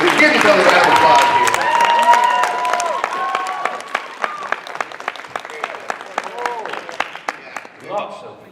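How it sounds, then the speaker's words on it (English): Applause rises from a crowd at a festival closing ceremony, mixed with overlapping talk and cheers, then thins into scattered individual claps that fade out. "Give yourself a round of applause"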